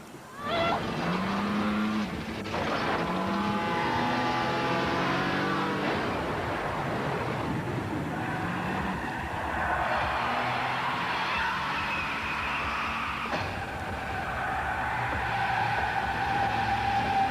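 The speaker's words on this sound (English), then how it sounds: "a hazardous car chase between the hero and the heroine" A car chase from the film Mission: Impossible II plays, with engines roaring and tires skidding under a dense, continuous wash of action sound and score.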